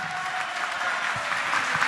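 A crowd at a meykhana evening claps to welcome the master Hacı Ağa Mirzə to the stage, a steady, fairly loud patter of many hands with no pauses.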